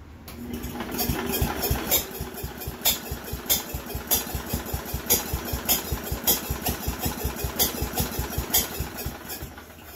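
An Allis Chalmers project tractor engine fires up and runs rough with no throttle, popping in a fast irregular pulse of loud close bursts over a low rumble.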